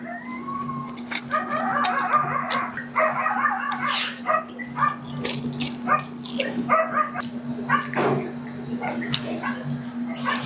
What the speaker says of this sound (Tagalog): Ang ingay ng mga aso eh